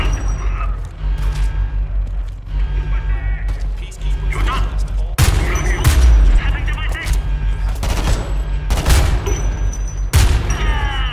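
Bursts of rapid gunfire from the video game Homefront: The Revolution, sharp repeated shots in clusters with brief pauses between volleys, loud and close.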